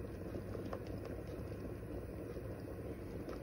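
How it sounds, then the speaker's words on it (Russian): A pot of homemade tomato ketchup boils on the stove, a low steady bubbling and soft popping patter that continues evenly and quietly throughout. "Видите, как хорошо закипает."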